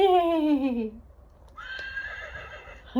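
A human voice imitates a horse's neigh: a single wavering, falling whinny lasting about a second, close and fairly loud, followed by quieter faint sounds.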